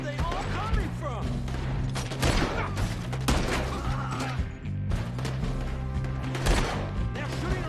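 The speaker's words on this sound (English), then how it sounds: "They're shooting right at me!" Rapid gunfire in the video game Red Dead Redemption 2, dense overlapping shots and cracks crashing continuously over music, with people shouting during the chaotic firefight.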